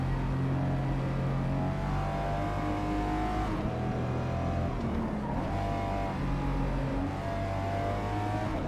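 Race car engine in the Forza Motorsport video game, a sustained loud drone that climbs and falls in pitch through several gear changes as the car accelerates, with no talk.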